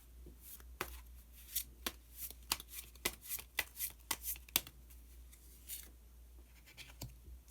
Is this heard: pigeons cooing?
no